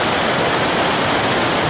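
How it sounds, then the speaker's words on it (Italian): The Monte Gelato falls on the Treja river give a steady, dense rush of water at close range. The roar stays loud and unbroken throughout, with no voices over it. "Mi ritrovo qui come qualche anno fa a un passo dalle prime cascate di Monte Gelato."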